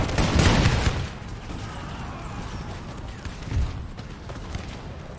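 Troops in a strategy video game battle open fire, loud crackling volleys of musketry with a heavy burst at the start and another midway, over a rumbling battlefield din.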